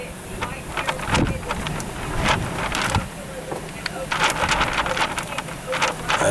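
Gusty wind roars through the open driver's window of a parked car during a wind storm in Laughlin, Nevada, buffeting the microphone in loud, uneven surges with sharp crackling hits throughout.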